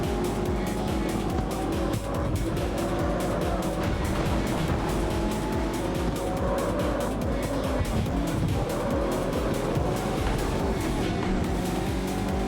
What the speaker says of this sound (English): I can hear people using the NOS now already.